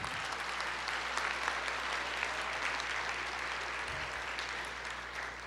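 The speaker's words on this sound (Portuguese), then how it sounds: "Pode aplaudir, libere o seu louvor, a sua adoração." A church congregation applauds in praise, a dense, even wash of clapping from many people held steadily throughout at moderate distance, with no clear speech over it.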